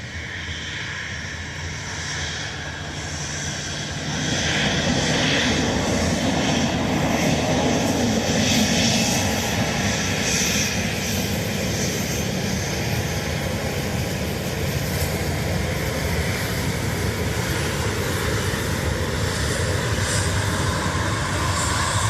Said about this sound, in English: about to taxi past us is a Ryanair going to Stansted